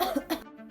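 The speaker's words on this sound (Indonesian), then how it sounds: "Waspada, batuk ini jangan dianggap sepele." Two loud, close coughs follow one another quickly, each a harsh burst, then a short trailing tail with nothing else heard.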